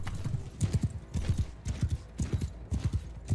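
Horse hooves gallop in a steady clip-clop rhythm from the Bannerlord video game, several animals pounding close and loud in repeated bursts with no talking.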